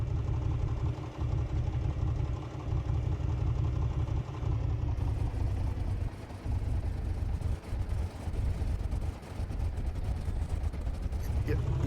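A Piper Comanche engine in a flight simulator idles roughly and misfires at low idle, its lumpy low rumble sagging midway as if nearly stalling, with someone talking over it.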